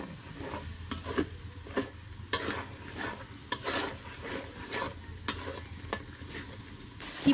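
Spices stirred through hot oil in a pan on a stove, a steady close sizzle broken by repeated scraping strokes of the spoon at an uneven rhythm.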